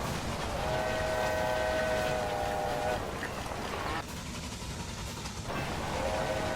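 A train runs in the railway management game Railway Empire on PS4, giving a continuous rolling rumble with sustained whistle tones that come and go, and a short dip partway through.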